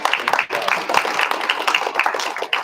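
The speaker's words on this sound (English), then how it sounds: "One more round of applause for all of us." An audience claps throughout a school spelling bee, a dense, loud patter of many hands that stays fairly even for a few seconds.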